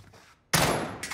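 Gunfire in Call of Duty Warzone: a sudden loud burst of shots breaks in after a quiet moment and keeps going as a dense, sustained volley, with another surge near the end.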